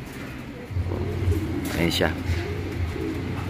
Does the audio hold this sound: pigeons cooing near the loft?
yes